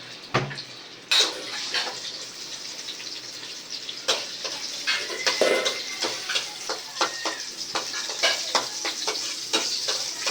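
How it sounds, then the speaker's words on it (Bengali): Onions frying and sizzling in a pan for a dal tempering, with a steady hiss throughout and repeated scrapes and clinks of stirring close by. "তো এই যে পেঁয়াজ ভাজা হইতেছে,"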